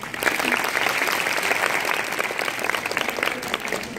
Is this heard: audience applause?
yes